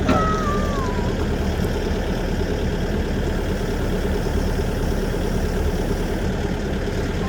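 A Kobelco SK140LC excavator engine runs steadily nearby with a loud, continuous low rumble, a brief whine at the start, and no talk over it.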